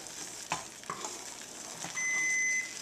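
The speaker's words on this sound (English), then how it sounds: "our icing is starting to boil very hard" Caramel icing boiling hard in a pot gives a close, steady bubbling sizzle with a few soft stirring knocks. An electronic timer beeps steadily near the end.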